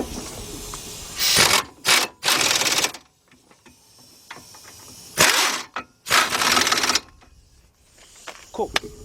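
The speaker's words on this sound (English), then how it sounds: "I'm using my 15 millimeter deep impact with my same wobble socket because I love it" An impact wrench fitted with a 15 mm deep impact socket and wobble extension tightens bolts at the left front hub bearing of a 2006 Chevy Impala, firing loud rattling bursts in two clusters with quiet handling noises between.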